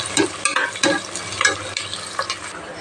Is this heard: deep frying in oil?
yes